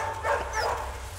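Several dogs taken along on a river trip bark and whimper in a short quick burst over a low engine hum, fairly close, with no talking.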